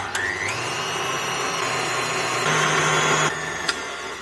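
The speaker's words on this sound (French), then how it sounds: "Et on va venir fouetter ça à l'aide d'un batteur électrique que je vais chercher de ce pas" An electric hand mixer whips cream for mayonnaise ice cream, giving a steady motor whine that shifts pitch as it runs, fairly loud and continuous, with no talking over it.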